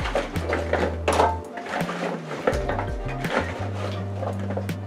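Sweet potatoes dropped into a baking pan for a cobbler, a series of clattering knocks and thuds of the pieces against the pan in a kitchen, over a low background hum.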